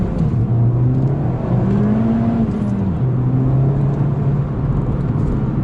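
A Mountune MR265 Ford Fiesta ST, tuned to 265 hp, pulls hard on a narrow road, its engine droning steadily from inside the cabin with a smooth rise and dip in pitch as it accelerates.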